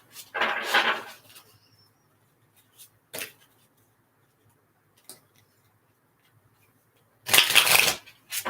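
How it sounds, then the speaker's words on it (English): Brief rustling riffles of tarot cards being shuffled, a burst at the start and another near the end, with faint clicks between and quiet pauses. "one more pile to shuffle here."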